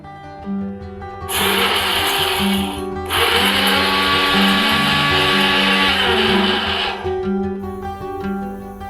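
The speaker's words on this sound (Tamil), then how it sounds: "ஸோ இப்போ நான் இதை வந்து பல்ஸ் பண்ணிட்டு வந்துடுறேன்" Mixer grinder pulsing roasted gram, green chillies, red chillies and coriander: two loud, close bursts of whirring motor, separated by a brief pause, each spinning up and cutting off, with no talking.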